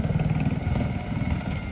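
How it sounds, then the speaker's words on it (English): Army battle tanks with diesel jet engines and steel tracks at a III Armored Corps training field in Fort Cavazos, Texas, give off a steady, loud, close engine rumble with dense low clatter throughout. "The thunder of diesel jet engines under the hood and the rumble of steel tracks echo through this 3 Armored Corps training field"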